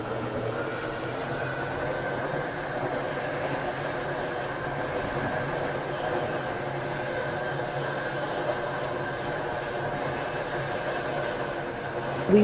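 A passenger train on the Waterline service in the Stepford County Railway video game rolls along with a steady, even rumble and a faint sustained whine, continuous with no voices.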